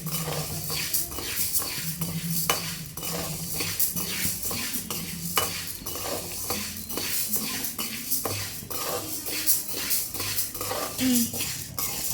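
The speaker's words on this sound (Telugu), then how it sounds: "చూడండి ఇలా దూరగా వేయించుకోవాలి సిమ్లో పెట్టుకొని వేయించుకోవాలి" Black gram lentils dry roasting in a pan over low heat, with a spoon scraping and clinking against the metal in steady repeated strokes, close and continuous, under faint background voices.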